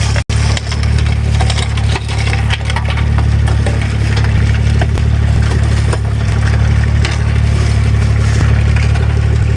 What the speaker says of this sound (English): the car's been sitting here idling for about 10 minutes now with the hood popped and the manifold in the sun